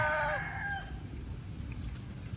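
A rooster crows once near the start, followed by faint farmyard ambience with soft low rustling.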